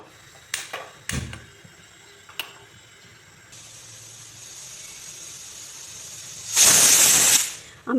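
Pressure cooker boiling taro leaves in water lets out one loud hissing steam whistle burst near the end, after a few sharp clanks and faint kitchen noise, with no talking.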